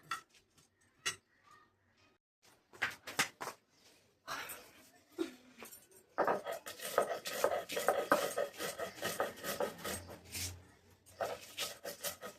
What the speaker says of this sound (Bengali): এবার এইটাকে আমি ঠান্ডা করে বেটে নেব